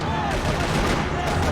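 Rapid gunfire from the Max Payne 3 game sounds as a dense, continuous burst of shots filling the short moment, loud and close.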